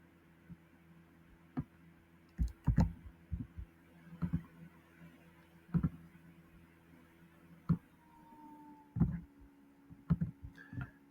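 Mouse clicks on a computer while creating an SAP purchase order: a scattering of sharp, close clicks, some in quick pairs, spread irregularly over a low steady hum with no talking.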